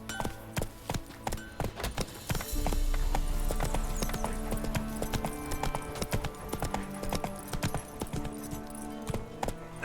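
Roach, a horse in Witcher 3, gallops in a steady, rapid clip-clop of hooves, close and clear, with a low rumble and ambient game sound partway through.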